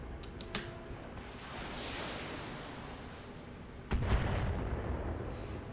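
Missile strikes hitting a turret in the BattleTech video game: a dense rumbling barrage of explosions with a few sharp impacts early on, swelling into a heavier, louder blast burst near the end.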